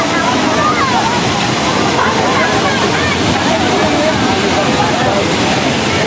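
Taytay Falls pours in a loud, continuous broadband roar of rushing water with people's voices mixed into it.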